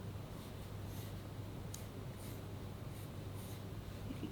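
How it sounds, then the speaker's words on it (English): Pencil sketching a simple Christmas tree on black paper, with quiet, close scratchy strokes in short intermittent bursts over a faint background hiss. "I'm just sketching a very simple Christmas tree design onto my black paper."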